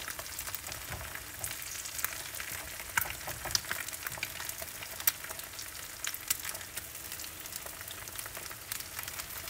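Egg roll in a bowl ingredients frying in a pan, a dense crackling sizzle with sharp spits and pops scattered throughout, close and fairly steady.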